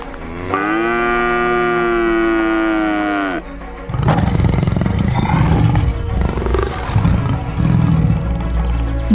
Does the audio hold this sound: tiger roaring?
yes